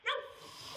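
A single sharp dog bark rings out close by during a tense police encounter inside a home, followed by a fading room tail and quiet.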